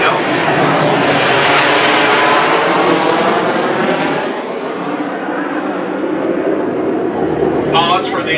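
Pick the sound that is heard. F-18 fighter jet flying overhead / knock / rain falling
F-18 fighter jet flying overhead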